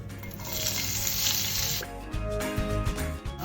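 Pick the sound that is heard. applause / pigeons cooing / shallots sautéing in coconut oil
shallots sautéing in coconut oil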